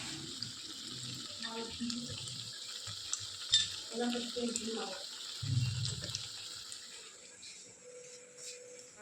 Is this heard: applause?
no